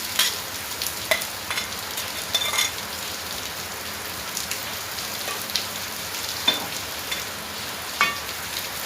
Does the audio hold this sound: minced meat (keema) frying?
yes